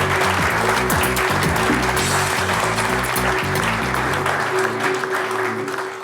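Audience applause welcomes three guests onto a stage for a business debate, with music playing. The clapping is loud and dense and continuous throughout, over a steady tone and a low music line, fading slightly at the end.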